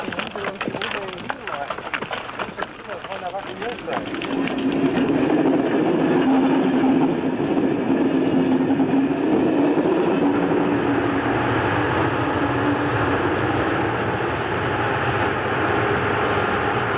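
A train hauls heavy military equipment by rail, a loud, continuous rumble that swells after a few seconds into a steady, sustained roar.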